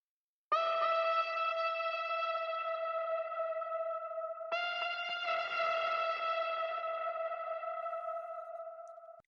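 Stratocassynth, a synth preset from Arturia Pigments built to resemble an electric guitar, plays two long sustained notes with a bright attack, a smooth bright harmonic tone and a slight shimmer, loud and alone.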